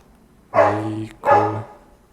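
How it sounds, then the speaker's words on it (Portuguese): A dog barks twice, close and clear, with a short pause between the two barks against a quiet background. "Tem hora que os cachorros não deixam eu gravar os vídeos."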